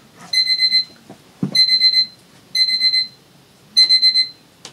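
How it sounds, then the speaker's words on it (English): A medicine reminder alarm goes off indoors with four loud bursts of rapid, shrill electronic beeps separated by short pauses. No one speaks. "That was my medicine alarm, which I took right before filming and then forgot to turn the alarm off."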